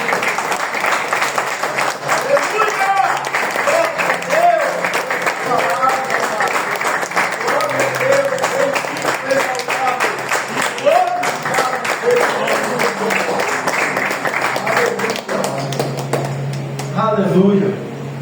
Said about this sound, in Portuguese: E vamos aplaudir a palavra do Senhor.